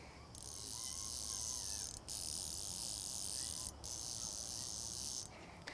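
A Hardy Ultralite MTX fly fishing reel spins in a fast, even stream of soft, muted high-pitched clicks, briefly pausing twice, quiet and close.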